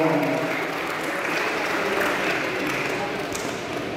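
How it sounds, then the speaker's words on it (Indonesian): Audience applause at a Viking Persib Club anniversary gathering, a steady dense wash of clapping that holds at an even level for the whole stretch, with a few voices faintly mixed in. "Tepuk tangan sekali lagi buat kalian semua."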